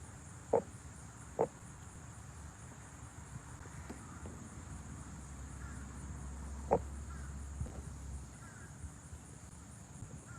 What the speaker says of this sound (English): Y'all hear that bird behind me?